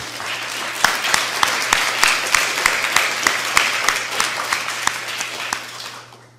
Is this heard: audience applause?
yes